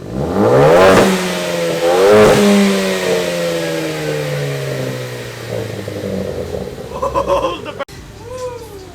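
Ford Focus ST engine with an AWE track exhaust, revving hard twice and then falling back through a long descending drone into popping burbles, close and loud, with voices briefly toward the end.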